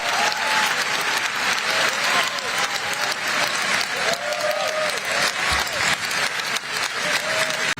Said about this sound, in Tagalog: Palakpakan ng mga politiko sa ginawa ng Pangulo.